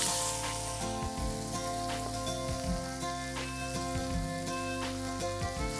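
Finely chopped onions frying in hot oil with curry leaves and asafoetida for Puneri misal, a steady close sizzle broken by repeated spoon scrapes and stirring knocks.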